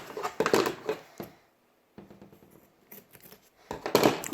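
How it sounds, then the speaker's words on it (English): Scissors cut hockey stick tape up close, a few quick clusters of crisp snipping and crunching separated by a short quiet gap, with no talk. "And then what we'll do is we'll cut the tape, and then we'll cut off the edges."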